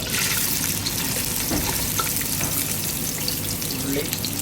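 Onions frying in hot oil with cinnamon and cloves for a Kerala-style chicken curry, giving a steady, close sizzle with some stirring throughout and no talk.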